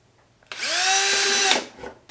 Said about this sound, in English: I'm going to take my drill, and it's got a 5 64 drill bit in it, and I'm going to drill my holes around the openings